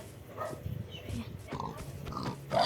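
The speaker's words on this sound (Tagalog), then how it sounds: "Kunin natin itong baboy oh." A pig in a Minecraft-style video game gives a few short grunts and oinks at moderate volume, with someone talking over the animal sounds.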